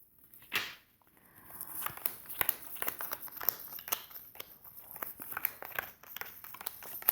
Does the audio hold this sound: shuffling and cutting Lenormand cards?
yes